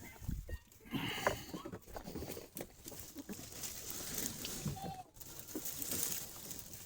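Outdoors at Escambia Lake, goats feed on a treat of cuttings from fence-line clearing, with rustling and munching and scattered bleats close by, plus faint bird calls in the background.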